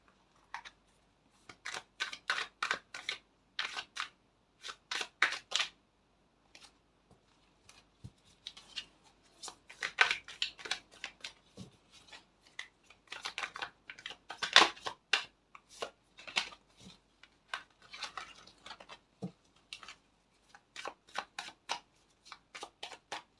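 Tarot cards being shuffled in bursts of crisp riffling and flicking, close and fairly quiet, with short pauses between handfuls.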